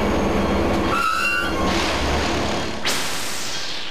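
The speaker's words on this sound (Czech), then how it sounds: "my tady z Lucí jedeme za nádherného slunečného počasí parním vlakem." A steam train runs on the Plum Railway on a sunny day, its rumbling carriages rolling steadily past, with a sharp whistle blast cutting in near the end.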